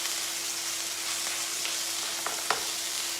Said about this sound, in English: you can hear the sizzle there, folks